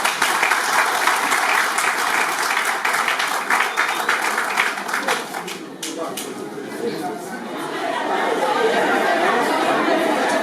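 A crowd at a town hall wedding breaks into lively, loud applause with cheerful chatter mixed in. The clapping dips briefly midway and then swells again.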